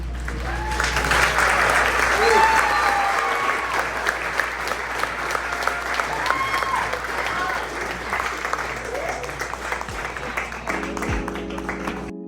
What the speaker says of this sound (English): Another round of applause for PM, please.